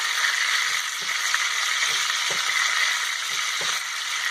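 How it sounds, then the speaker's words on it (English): Steak fries on a stove with a steady bright hiss of sizzling fat, close and continuous, punctuated by faint soft pops and ticks, no talk. "I just flipped the steak over"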